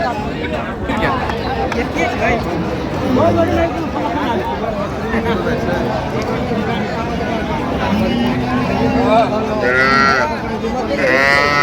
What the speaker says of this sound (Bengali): গাভী বাচ্চা